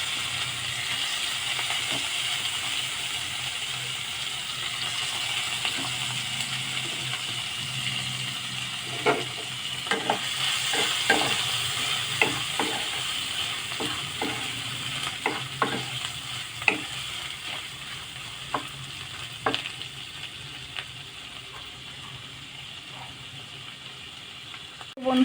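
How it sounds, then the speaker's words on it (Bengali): Fish frying in mustard oil in a home kitchen, a continuous sizzle and hiss with scattered sharp crackles and spatters building through the middle. "বন্ধুরা মাছটা ভেজে নিই, বেশ লাল লাল করে মাছটা ভেজে নিতে হবে বন্ধুরা।"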